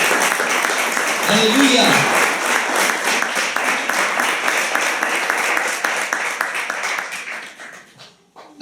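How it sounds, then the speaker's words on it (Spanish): A church congregation claps steadily and loudly for several seconds, with a voice calling out briefly over it before the applause fades away. "Denle un aplauso"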